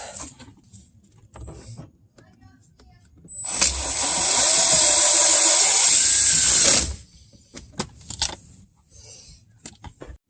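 A power tool drives screws while BMW side skirts are installed, giving one loud, steady high-pitched whir of about three seconds that then stops, with quiet clicks and handling noises before and after.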